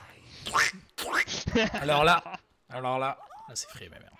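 A cartoonish duck quack from a Dota 2 cosmetic item sounds briefly between lively French-speaking voices, with chuckling around it.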